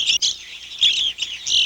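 Small backyard birds chirping and tweeting near feeders, a steady run of bright, high twittering calls that barely pauses, with no voices.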